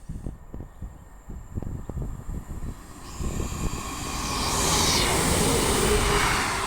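A Class 158 or similar diesel passenger train on the Calder Valley Line at Castleton runs from Chester to Leeds, rumbling past with a rising roar that swells to a steady broadband rush, with a clattering rhythm early on.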